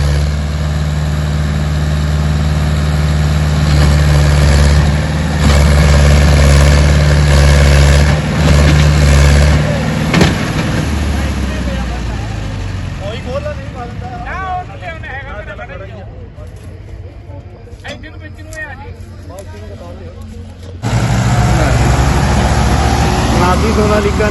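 A Mahindra 475 tractor engine hauling a sugarcane load rumbles steadily and loudly throughout, easing slightly midway before picking up again, with people talking over it.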